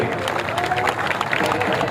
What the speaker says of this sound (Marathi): सर्वांनी एकदा अमिताभांच्यासाठी टाळ्या करा सर्वांनी